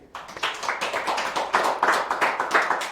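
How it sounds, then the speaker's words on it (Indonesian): A small audience claps at a workplace-accident insurance event, distinct individual hand claps in a loose, uneven rhythm, fairly close and moderately loud with no voices over them. "Tepuk tangan sekali lagi."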